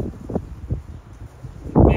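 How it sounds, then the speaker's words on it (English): Wind blows outdoors on a farm, gusting in soft rumbling bursts against the microphone, with a louder buffeting gust at the end. "It's fairly windy, yep."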